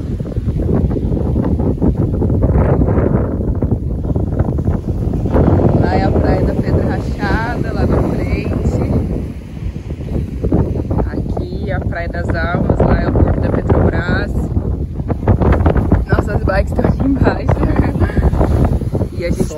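Strong wind sweeps over the dunes at the beach in Paracuru, roaring and buffeting loudly and continuously against the microphone while people chat beneath it.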